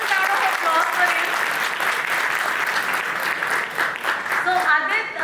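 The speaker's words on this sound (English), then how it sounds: "huge round of applause for him." An audience at an AWS Community Day gathering in Vadodara claps loudly and continuously, with scattered cheers and voices mixed into the steady applause.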